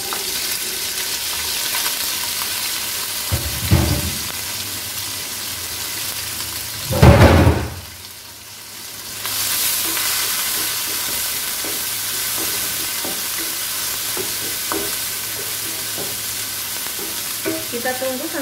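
Chili, shallot, garlic and spring onion dropped into hot oil in a frying pan for spicy-sweet sambal goreng tempe, a loud burst of sizzling and stirring that settles into a steady frying hiss.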